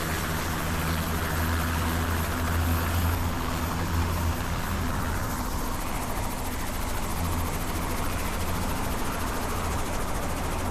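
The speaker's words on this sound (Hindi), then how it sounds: "ये 30 से 35 मिनट का हेलीकॉप्टर टूर था।" Helicopter flying on a Grand Canyon sightseeing tour in Arizona, a steady, loud rotor and engine drone running continuously with a deep low throb and no talk over it.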